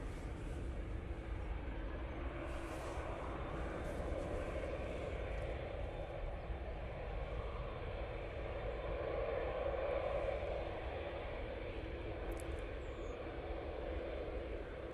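A Qatar Airways Boeing 787-9 Dreamliner taxis onto runway 05 left for departure at Manchester Airport, a steady, fairly faint broadband jet rumble that holds throughout, heard from a distance with no talk.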